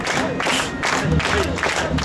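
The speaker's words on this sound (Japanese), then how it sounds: "盛大な拍手お願いします" An audience at a jazz session at the Ikebukuro Jazz Festival claps in a sustained burst of applause. The noisy crowd swells and pulses unevenly for the whole moment.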